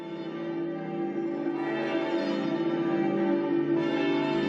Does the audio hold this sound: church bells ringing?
yes